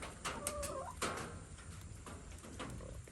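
Hens in a coop on a homestead cluck softly to one another in a few faint, brief calls over a steady hiss of rain pattering on the roof.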